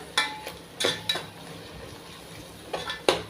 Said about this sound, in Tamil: இதில் புதினா மல்லியும் சேர்த்து கிண்டணும்